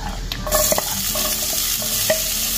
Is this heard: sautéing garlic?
yes